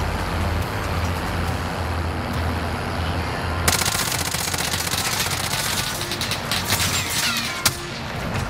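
Gunfire in the video game Warzone on the Verdansk map: a steady rumbling background, then rapid automatic bursts in the second half with one sharp, louder shot near the end.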